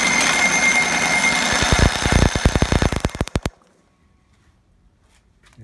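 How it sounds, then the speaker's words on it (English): A Johnson 60 outboard with new coils and CDI box cranks over with its spark plugs grounded together, giving a dense, loud crackling buzz that breaks into rapid snapping pulses for about three seconds before cutting off into near silence. "we've got good spark from this unit"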